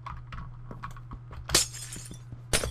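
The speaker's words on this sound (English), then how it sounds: "Oh no, I broke glass." Glass blocks breaking in Minecraft during a Spleef match, two sharp shattering crashes a second apart over faint game clicks, footsteps and a low background hum.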